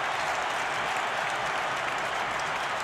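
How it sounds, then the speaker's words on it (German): Football crowd at Wembley roaring and applauding during England vs Germany, a dense, steady wash of cheering held at full loudness throughout with no voices standing out. "Und England jubelt."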